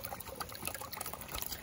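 Water leaks and trickles in a rural setting, a faint, irregular patter of small drips and splashes running continuously without voices.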